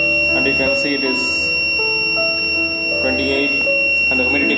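An electronic buzzer on a Raspberry Pi Zero W IoT agriculture system sounds as a sustained high tone, with a person talking nearby over it.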